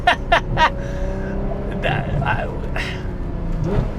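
Ferrari F12 Berlinetta V12 engine revving hard through a string of sharp, rising bursts, then steady engine drone with further surges as it shifts, loud and close with a voice talking over it.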